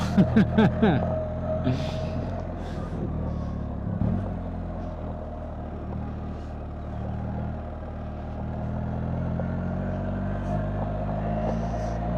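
A tractor engine runs on a field track in the Italian countryside, giving a steady, close low rumble with a few brief clunks near the start. A couple of faint voice-like bursts rise above it.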